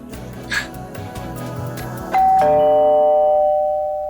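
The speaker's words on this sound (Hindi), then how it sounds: "अरे पार्थ, आपको कैसे पता कि घर की घंटी बजने वाली है?" Background sounds in a Hindi TV drama scene, then a loud two-tone house doorbell chime rings out and lingers as it slowly fades.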